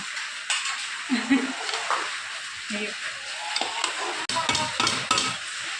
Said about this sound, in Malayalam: ഇളക്കി ഇളക്കും നെയ്ച്ചോറ് വയ്ക്കുന്നു